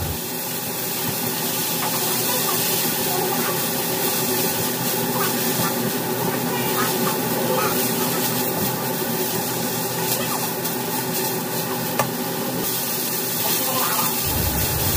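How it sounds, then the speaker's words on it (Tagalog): Water poured into a pan of minced pork during home cooking gives a continuous, loud sizzling and bubbling rush that stays steady throughout and stops abruptly at the very end. "Lagyan natin ng konting tubig."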